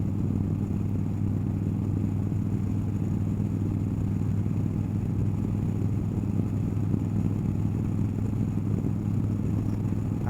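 A motorcycle engine idles steadily with a low, continuous rumble and faint clatter, unchanging throughout.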